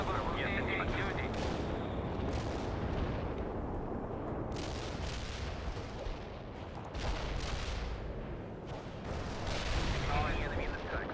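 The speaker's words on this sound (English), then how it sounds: "Artillery barrage." Artillery barrage in the strategy game World in Conflict: dense, continuous rumbling booms and crackling impacts blend into a heavy roar that holds for the whole stretch, with voices speaking under it.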